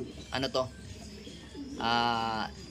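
Pet pigeons cooing in a loft, a short coo early on followed by a longer, louder throaty coo near the end, with faint background noise between.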